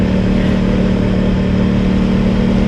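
A 2025/26 Aprilia Tuono 660 Factory motorcycle engine drones steadily at close range, a loud even hum with no distinct breaks from quickshifted upshifts.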